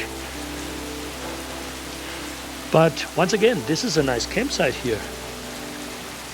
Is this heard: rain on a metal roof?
yes